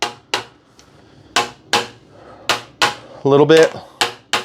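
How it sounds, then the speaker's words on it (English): A hammer strikes a PVC pipe stand again and again, each blow a sharp hollow knock with a short ringing tail, spaced irregularly about half a second apart, close by; a brief spoken phrase breaks in midway. "you can break PVC hitting it with a hammer"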